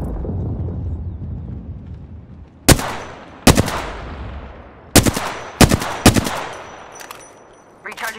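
Gunfire in the Apex Legends battle royale: several sharp, loud shots and short bursts ring out at irregular intervals, each with a booming low tail, over a rumbling ambient bed.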